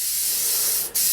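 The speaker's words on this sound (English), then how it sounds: "I'm just going to spray a little bit on there." K&N air filter oil sprays from an aerosol can onto a pressure washer's air filter as one close, steady hiss lasting about a second, with a brief dip just before it ends.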